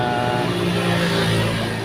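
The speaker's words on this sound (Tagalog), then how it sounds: "mangilan-ngilan na lang po ang dumadaang sasakyan" Cars on Haji Lazaro street near a quiet market, engine noise rolling by steadily and fairly close, a dense continuous roar with no voices.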